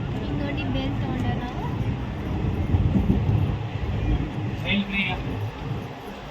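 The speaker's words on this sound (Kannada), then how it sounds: "ನಮ್ಮ ಟ್ರೈನ್ ಹೊಂಟು" A Belagavi-to-Mysuru passenger train rumbles along with a steady, loud rolling roar and a few faint clanks, while people talk nearby over the noise.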